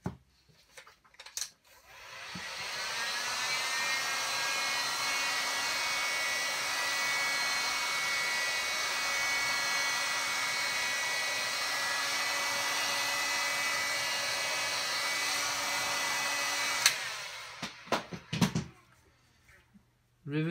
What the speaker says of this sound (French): on va venir chauffer sur les côtés